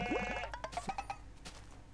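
Minecraft goat bleating close by, a wavering nasal cry followed by several short bleats in quick succession, then quieter.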